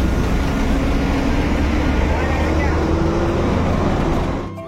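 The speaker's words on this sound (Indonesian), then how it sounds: "Bus Mior sudah mulai dimundurkan" A Mior intercity bus reverses out of Kampung Rambutan terminal, its close, loud diesel engine droning steadily before fading sharply at the very end.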